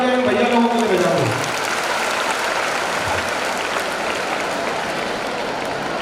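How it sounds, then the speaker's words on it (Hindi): A crowd at an outdoor stage event honoring needy children breaks into steady, hissing applause for the volunteers, right after a voice over the loudspeaker fades out. "एक बार जोरदार तालियां भैया लोगों को बजा दो"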